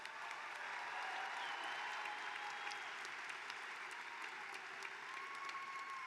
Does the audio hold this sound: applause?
yes